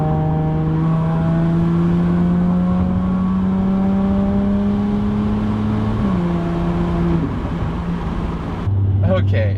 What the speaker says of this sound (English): this is the constant drone that you hear on the interstate with a straight pipe supercharged V6